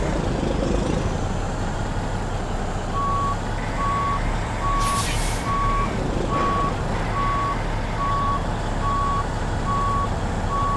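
A truck backing in while reversing in American Truck Simulator, with a steady series of evenly spaced reversing beeps over continuous engine rumble and a brief hiss midway.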